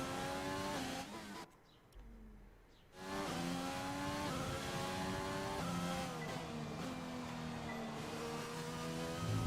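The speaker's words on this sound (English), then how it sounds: "does the engine sound less electronic?" Formula 1 car engine in the racing video game F1 2020, a high, sustained whine rising and falling through gear shifts, briefly cut out near the start before revving back up and holding steady.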